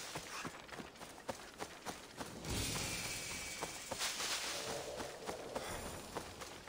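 Horse hooves clip-clop at a steady trotting rhythm in Assassin's Creed Odyssey, moderately close, with a swooshing rush of movement partway through and no talk.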